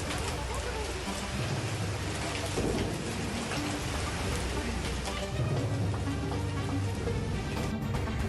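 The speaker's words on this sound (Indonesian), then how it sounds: "hujan deras disertai angin kencang pada Senin sore melanda kawasan tengah kota Sidoarjo" Heavy rain with strong wind and hail over a town centre in Sidoarjo, a dense steady roar of downpour and gusts with low rumbling, continuous throughout and no talk.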